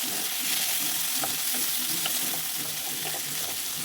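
Tomatoes and spices fry in a pan with a dense, continuous sizzle and occasional stirring scrapes, close and steady throughout.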